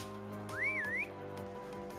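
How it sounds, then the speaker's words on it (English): A single loud finger whistle from a video game character rises, dips and climbs again in one bright swooping tone lasting about half a second, over a steady musical background. "Aster whistles loudly with his fingers."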